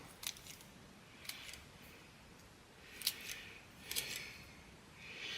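Pruning shears snip away low-hanging fruiting branches on a blueberry bush outdoors, giving a few sharp, close cuts spaced a second or two apart over faint background rustle.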